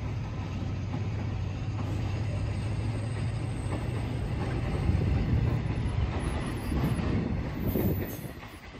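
A train rolls past on a railway line, a steady rumble of wheels and carriages with faint clicking and squeal, fading slightly at the end.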